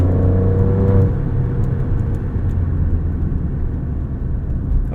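A 2022 Alfa Romeo Stelvio Quadrifoglio is driven, with a loud, steady engine drone and road rumble heard from inside, rising slightly in pitch early on and then cruising evenly, with no voices.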